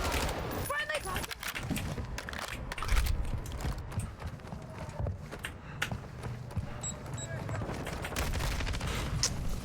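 Incoming gunfire in a shooter video game: scattered shots and short rattling bursts at middling loudness, heard under steady game ambience and intermittent talk.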